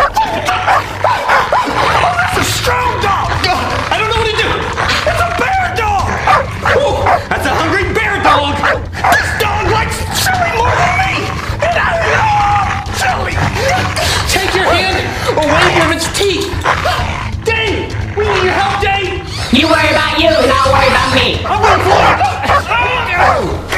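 A dog yips, barks and whimpers in short bursts throughout, mixed with excited voices and background chatter that run over most of the sound.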